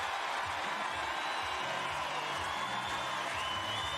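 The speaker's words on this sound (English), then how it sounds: "I just want to pause and listen to this crowd for a while." A large crowd cheers continuously at a beach volleyball quarter-final in Montreal, a dense, steady roar of whoops and applause filling the arena without a break.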